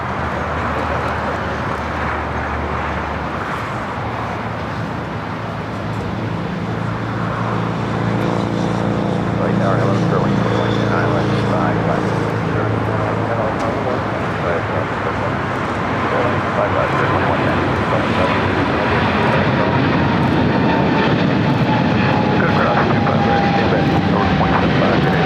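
A Singapore Airlines Boeing 777 rolls down runway 25 right at LAX for takeoff, its jet engines building into a broad, loud roar that swells and holds, with a voice talking over it.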